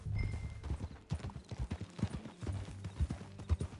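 Horse hooves clip-clop in a quick, uneven rhythm on hard ground, close by, with soft rustling between steps and no voices, in the video game Red Dead Redemption.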